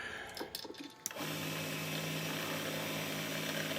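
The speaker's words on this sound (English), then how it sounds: "Drill the tap hole down through there. It's for a 632 screw." A drill bores a tap hole for a 6-32 screw in a hose clamp part: a few short clicks and handling noises, then a steady, constant motor whine that starts abruptly and holds to the end.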